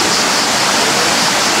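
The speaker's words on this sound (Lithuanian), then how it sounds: "Kriokliukščiai." Small waterfalls on a hiking trail produce a loud, steady rush of falling water that fills the whole clip without pause.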